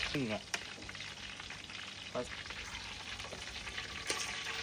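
Pork belly fries in oil for crispy pork, giving a continuous close sizzle with occasional pops and stirring clatters while someone talks over it.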